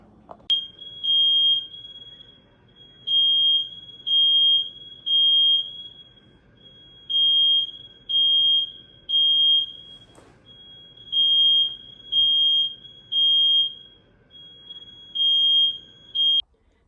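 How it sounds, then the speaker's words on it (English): A shrill smoke alarm in a kitchen where a duck is being roasted sounds in repeated groups of three loud, piercing beeps with short gaps between, continuing throughout without any talking. "Hope the alarm won't go off."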